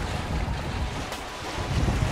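Heavy waves slap against a sailboat's hull at sea off Mauritania, a steady broadband wash of water and wind noise with low thumps swelling toward the end.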